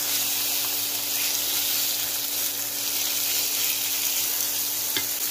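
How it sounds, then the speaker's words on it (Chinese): Minced pork fries in a wok with ginger and minced garlic, making a loud, steady, dense sizzle that holds evenly from start to finish, with a faint clink near the end. "放入姜、蒜末，在炒出香味后，加入肉末"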